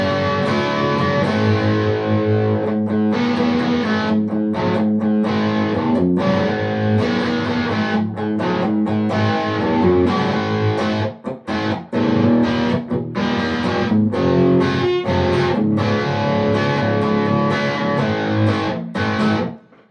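Bogner Helios 100W head driving an electric guitar with the gain fully dimed, giving loud, continuous crunchy distorted playing with brief choppy stops in the second half.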